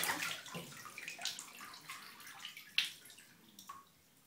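Water splashing and sloshing in a bathtub during a young child's bath, irregular close splashes and drips with some quiet gaps, no talk over it.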